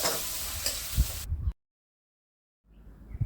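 Vegetables and masala sauté in oil in a village kitchen, a dense sizzling hiss with soft scraping stirs for about a second and a half, then a sudden gap of silence before quieter frying resumes.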